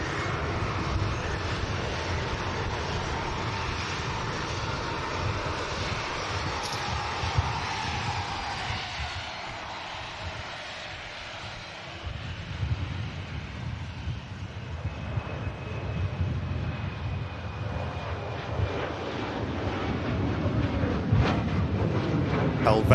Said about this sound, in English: Helvetic Embraer heading out to Zurich.